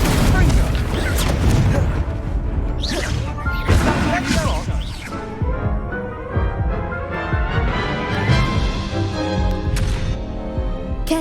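Incendio fire spell cast in the Hogwarts Legacy video game: loud, dense bursts of booming, crashing blasts and whooshing effects, repeated over a continuous roar of battle sound.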